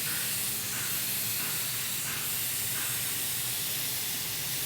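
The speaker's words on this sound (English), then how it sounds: "Normally when I'm spraying a candy, I try to get the widest pattern I possibly can" A spray gun sprays candy paint in a wide pattern at moderate pressure, giving a steady, close, continuous airy hiss that swells slightly in passes without pause.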